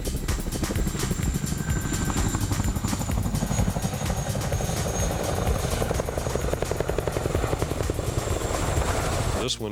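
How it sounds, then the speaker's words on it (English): Chinook tandem-rotor military helicopter, a steady loud rhythmic rotor thumping with engine whine that holds for about ten seconds, close and continuous. "makes the Chinook the most versatile military helicopter ever created"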